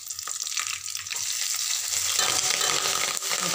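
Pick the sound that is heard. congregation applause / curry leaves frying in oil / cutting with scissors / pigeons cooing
curry leaves frying in oil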